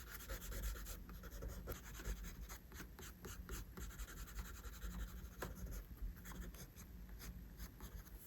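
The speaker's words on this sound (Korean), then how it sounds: "이 부분 눈썹을 쉐딩 해줍니다" A pencil shades the eyebrow area of a drawing of an eye: continuous close scratchy graphite strokes rubbing across paper in quick, uneven back-and-forth bursts.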